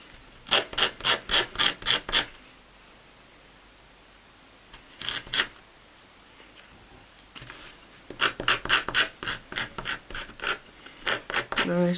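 Sandpaper rubbing along the edges of a wooden fingerboard deck in quick rhythmic bursts of short scrapes, close and fairly quiet, separated by pauses.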